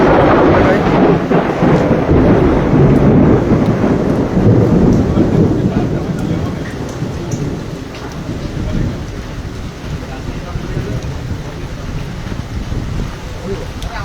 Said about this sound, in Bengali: আর এখানে প্রচণ্ড বৃষ্টি